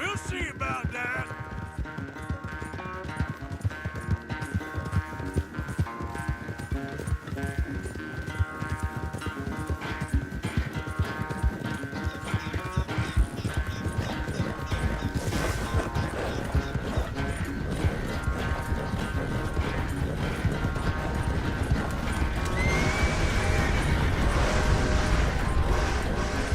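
A horse galloping in Red Dead Redemption 2, steady rapid hoofbeats going on throughout under game music, growing louder and denser toward the end.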